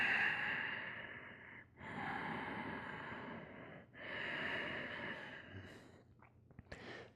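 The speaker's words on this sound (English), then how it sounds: "Full deep inhales through the nose. Slow, soft, calming exhales out the nose." Slow, deep breaths drawn in and let out through the nose during a lizard pose yoga flow, three long airy cycles close to the microphone with brief pauses between them.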